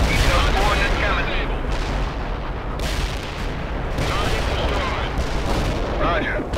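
Heavy artillery hits pounding in World in Conflict, a sustained loud wash of booming impacts that swells and dips, with speech mixed in.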